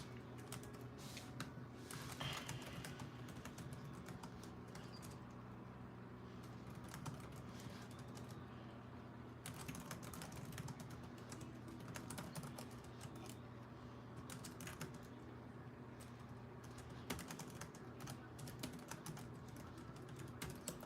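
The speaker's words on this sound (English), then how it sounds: "I'm typing a poll now" Typing on a computer keyboard: quiet, continuous clicking keystrokes in irregular bursts with short pauses, close and faint, running alone without talk for about twenty seconds.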